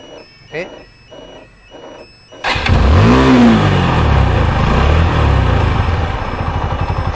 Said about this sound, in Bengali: সামান্য পনেরো পনেরো পয়সা পেন দিয়ে কিভাবে বাইকটা স্টার্ট করা যায়